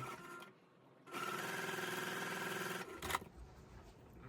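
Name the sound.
sewing machine stitching quilt block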